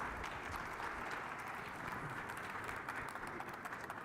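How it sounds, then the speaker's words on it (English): An audience at a live event gives a steady, continuous round of applause welcoming Mindy Grossman, President and CEO of Weight Watchers International, onto the stage. "Please give me a warm round of applause for President and CEO of Weight Watchers International, Mindy Grossman."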